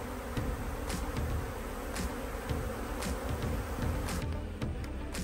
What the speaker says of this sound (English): the bees will clean it up